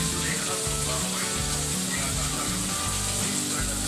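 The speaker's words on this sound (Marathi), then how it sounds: "बघा फ्राय करतात. रवा लावून त्याला असं तेल टाकायचं आहे." Rava-coated rawas fish frying in hot oil, a steady broadband sizzle running throughout with low rhythmic thumps underneath, close and continuous with no talk.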